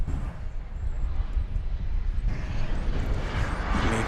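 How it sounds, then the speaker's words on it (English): An Avianca Airbus A320 jet at DFW Airport gives a steady, broad roar that swells slightly as it goes on, heard from a distance without any speech. "So Avianca flight's going back to San Salvador. It is an Airbus A320."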